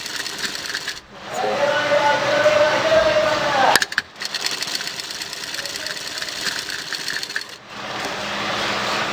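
A sewing machine stitches a shirt in bursts, its motor whirring and rising in pitch before short pauses, with someone speaking over the steady machine noise.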